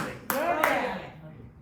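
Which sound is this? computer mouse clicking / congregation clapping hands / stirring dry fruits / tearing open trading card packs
congregation clapping hands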